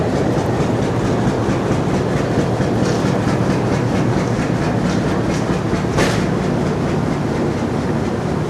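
Kohat Express passenger train of Pakistan Railways running on rails between Rawalpindi and Kohat, a steady loud rumble with rhythmic clickety-clack of wheels, heard from inside the moving train.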